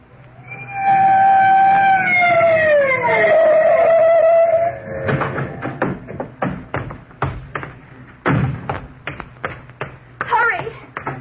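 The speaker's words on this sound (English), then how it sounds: "the night Bill Krug of Homicide let me work the siren on the police car as we tore out" A police car siren from an old-time radio drama wails in long rising and falling sweeps for several seconds, then cuts off and gives way to choppy noises and bursts under a voice.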